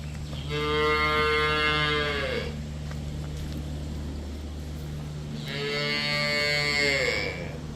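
A cow moos twice, two long, loud lowing calls separated by a pause, with a steady low hum underneath, at a farm selling cows and buffalo.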